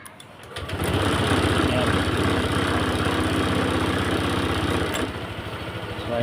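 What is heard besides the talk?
Honda Click 150 scooter engine starting and idling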